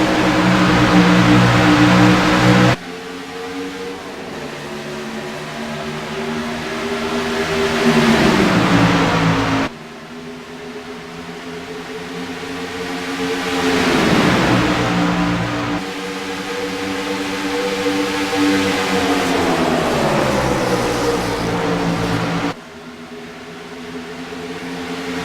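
Race cars roaring off at the start of a race at Chicagoland Speedway, loud engine tones rising and falling in pitch as they pass and shift, layered over one another and continuous.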